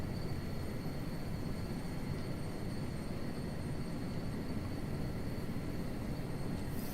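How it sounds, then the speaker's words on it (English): Helicopter blades in Microsoft Flight Simulator produce a constant, dense broadband rumble and roar with steady high tones, unbroken for the whole stretch. "It sounds like there's like another plane landing, but I guess it's just the helicopter blades."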